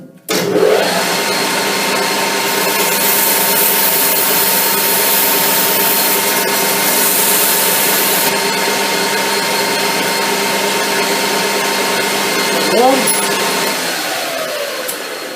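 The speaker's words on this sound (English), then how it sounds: "I was just having the emery paper wrapped around the drill bit then, just to give us a round area" Emery paper wrapped around a spinning drill bit sands a radius on a metal workpiece, a steady whirring grind held for about fifteen seconds, close and alone, with a short scrape near the end.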